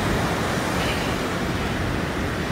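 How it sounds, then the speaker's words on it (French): Ocean surf on a beach in Bali makes a dense, steady wash of broadband noise, fairly loud and continuous with some wind mixed in. "Ça me fait du bien à marcher au bord de la plage, d'écouter le bruit des vagues"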